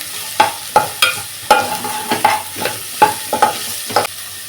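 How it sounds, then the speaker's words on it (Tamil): Carrots and beans tossed in a pan with ginger-garlic paste, a steady low sizzle under repeated sharp scrapes and clinks of a spatula stirring, close and moderately loud, no talking. "கேரட் சேர்த்துக்கிறேன் அதோட பீன்ஸ் சேர்த்துக்கிறேன் இது வதங்கட்டும்"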